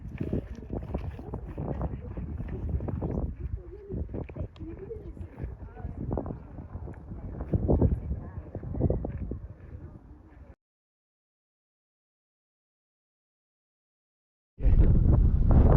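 Strong wind buffeting the microphone on a hill near Fitz Roy, Argentina, a loud rough roar with gusty swells for about ten seconds, then silence before a sudden heavy burst returns.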